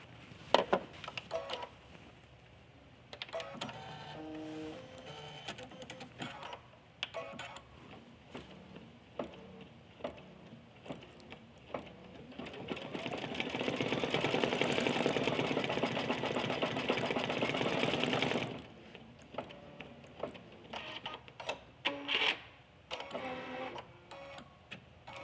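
A sewing machine stitches the white of the eyes on a baby bear lovey, running in short stop-start bursts before a long steady whirring run, then stopping and resuming briefly.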